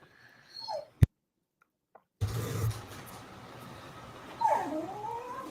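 A dog whimpers indoors in a few short, high whines and yips, close to the microphone, broken by a brief silence and a sharp click.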